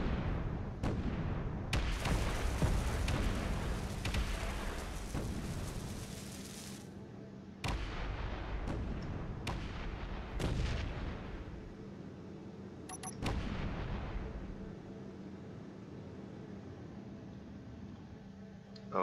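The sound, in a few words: weapon fire at turrets in Space Engineers video game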